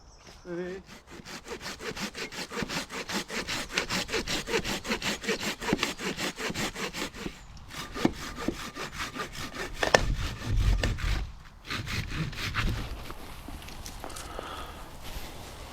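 Rapid, rhythmic back-and-forth strokes of a hand saw cut firewood in the woods, with a brief pause partway through and a few rustling bumps, loud and close.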